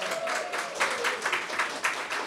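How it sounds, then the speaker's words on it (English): An audience at an anniversary event in San Jose, California applauds, a continuous rippling wash of clapping at moderate loudness with a faint background tone. "Let's give them another round of applause."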